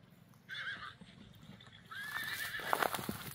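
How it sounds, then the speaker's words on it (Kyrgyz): A horse in a rural village whinnying loudly twice, the neighs clear and close, with soft hoofbeats and faint outdoor background underneath. "Аттын чуркашын бир көрүп коюңуздар."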